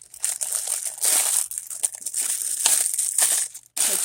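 A plastic cup and a disposable frosting bag are handled up close, with bursts of loud crinkling and crumpling plastic, brief pauses between, and no voice.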